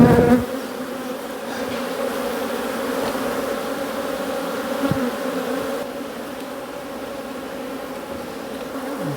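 Bees from hives under a shed floor buzz in a dense, steady swarm drone close by. The drone is loud and continuous, with individual insects whizzing past now and then.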